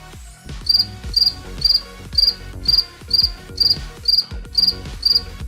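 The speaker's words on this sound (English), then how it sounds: "this cricket sings 17 times in 8 seconds" A single cricket sings in regular, evenly spaced bursts, about nine sharp shrill chirps in a row, close and loud against a quiet background.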